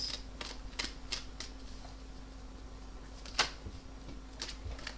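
Tarot cards being shuffled by hand, a string of soft, quick papery flicks and snaps in scattered bursts, fairly faint over a steady low hum.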